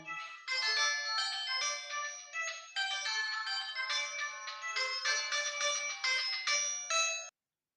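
A melodic phone ringtone plays steadily and loudly for about seven seconds, a bright repeating electronic tune with no voices over it, then stops abruptly.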